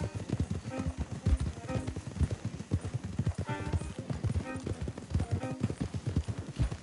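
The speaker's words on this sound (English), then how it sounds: "Don't want the horses clopping around outside the window" Horse hooves clop steadily on the ground in Red Dead Redemption 2, a continuous trotting rhythm of several horses close by, with faint voices in the background.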